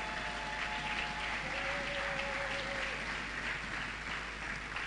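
A church congregation applauds together in a continuous, even wash of clapping, fairly faint and distant, with a sustained tone beneath it.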